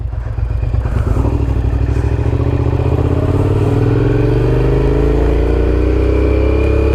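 A Suzuki SV650S V-twin motorcycle engine revs up and accelerates in first gear, its deep, throbbing pulse rising steadily in pitch, loud and close.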